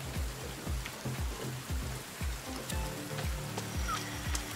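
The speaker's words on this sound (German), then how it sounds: "der Regen, er kommt endlich." Rain falling in The Forest video game, a steady wash of rainfall heard alongside a rhythmic low repeating sound pattern throughout, with no talking.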